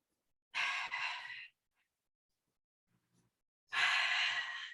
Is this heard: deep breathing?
yes